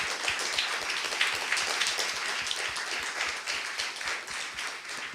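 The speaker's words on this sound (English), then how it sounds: "maybe a round of applause for him too" An audience at a scientific panel discussion claps for a panelist, a brief burst of dense, close applause that stays fairly even, with no voices over it.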